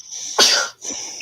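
A single sharp sneeze bursts out clearly and close, preceded and followed by faint room noise, with no talking over it.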